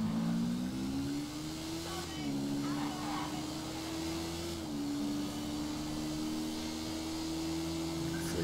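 A motorcycle engine in GTA V revs steadily, its tone rising and holding with a brief dip partway through, loud and continuous with faint background noise throughout.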